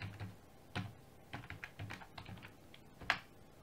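Quick bursts of laptop keystrokes as a web address is entered into a browser, a rapid uneven run of close, crisp clicks with short pauses and one sharper, louder tap near the end.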